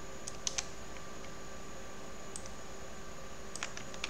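A handful of quiet computer keyboard key presses for a Ctrl+T shortcut: sparse, crisp clicks in small clusters over a low steady hum, with no talking.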